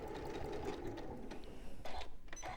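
A sewing machine stitches fabric pieces together, its needle running in a quick, steady mechanical patter with brief uneven bursts, close by and moderately loud.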